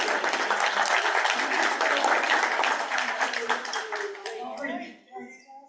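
A crowd at a talk about Miami's great hurricane claps loudly and steadily for several seconds, then the applause thins out as a voice starts speaking.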